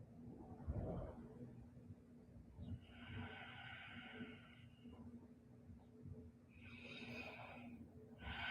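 Yoga breathing close to the mic, two long airy breaths, one in the middle and one near the end, over low background rumble and a faint hum, with no clear talk.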